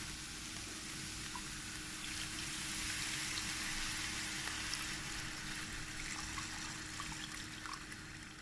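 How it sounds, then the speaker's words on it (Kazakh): Water steadily poured into a pot of buckwheat and meat, a continuous close trickling and splashing that runs without pause and with no talking. "Су құямыз, су еттің бетін шамалы ғана жауып тұру керек."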